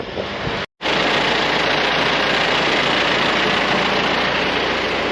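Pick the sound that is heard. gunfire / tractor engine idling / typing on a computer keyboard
tractor engine idling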